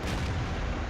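A KV-1S tank's cannon shot in World of Tanks sounds as a single heavy, loud blast that fills the whole moment with a dense, booming roar.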